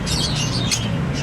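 Pet parakeets chirp in a quick, busy flurry of high tweets, fairly close, over a low background rumble.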